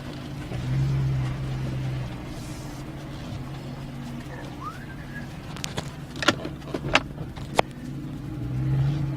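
A Ford F-150 pickup truck idles and rolls along at low speed, a steady low engine rumble with a couple of swells, plus a few sharp clicks and knocks near the end.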